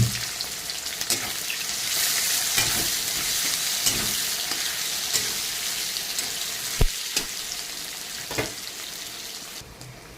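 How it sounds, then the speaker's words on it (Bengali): Chopped onion fries loudly in hot oil along with cinnamon, cardamom and cloves, a dense crackling sizzle broken by sharp spoon clatters against the pan, with no voices. "এখন আমি এখানে দিয়ে দেবো কিছুটা পেঁয়াজ কুচি।"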